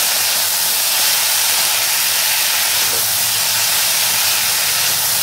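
A gas stove burner on high flame gives a loud, steady, close-up roaring hiss that holds unbroken from start to finish while chirer pulao cooks.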